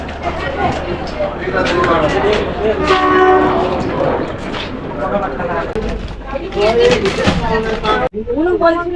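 A Kalka–Shimla toy train engine on the mountain railway sounding its horn in a loud sustained blast over rumbling running noise, with voices and crowd chatter nearby throughout.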